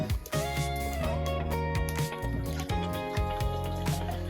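Root beer pours into a cup, a steady liquid fill with drips and fizz, close and continuous over a background of layered tonal sound.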